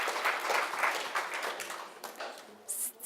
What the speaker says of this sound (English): We'll give it a round of applause.